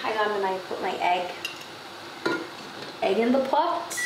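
An egg put into a pot in a cottage kitchen, heard as a few light clinks and knocks of crockery and metal with faint sizzling, alongside someone talking nearby.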